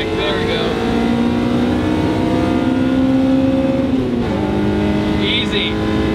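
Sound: Honda Civic K20 engine revving into VTEC

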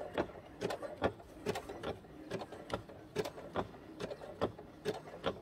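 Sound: stitching a fabric-covered rope bowl

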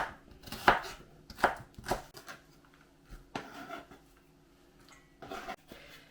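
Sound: knife chopping onion into quarter rings

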